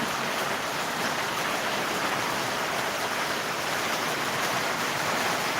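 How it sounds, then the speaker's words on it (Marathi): Steady, dense roar of heavy rain pouring continuously at a constant loudness, with no voices. "जबरदस्त पाऊस पडत आहे"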